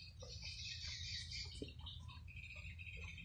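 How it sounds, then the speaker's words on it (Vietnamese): Pet pigeons kept at home give faint, soft bird calls and chirps over a low, steady background hum. "Kia là con bồ câu nha. Nhà mình nuôi bồ câu."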